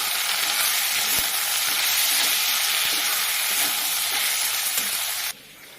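Ginger garlic paste frying in a hot pan for a kolamocha curry, a loud continuous sizzle and hiss with a few faint utensil taps, cutting off abruptly near the end.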